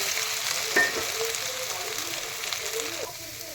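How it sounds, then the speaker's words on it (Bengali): Soybean chunks fry in hot oil in a vegetarian dish made without onion or garlic, giving a loud, dense, continuous sizzle close by with a brief clatter near the start and no speech. "এখন এই সয়াবিনগুলি ছেড়ে দিলাম, একটু ভেজে নেবো এগুলি।"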